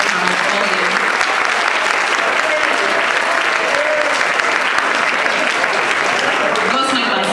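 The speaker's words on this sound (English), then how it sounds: "Please, a round of applause for them." A crowd applauds with steady, sustained clapping for several seconds, loud and dense throughout, with a few voices mixed in.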